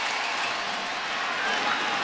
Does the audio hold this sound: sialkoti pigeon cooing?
no